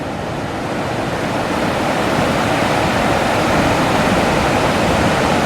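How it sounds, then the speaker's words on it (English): Heavy ocean surf off an island roars continuously, a dense, loud rush of big breaking waves with no voices. "Whoa, waves are big today."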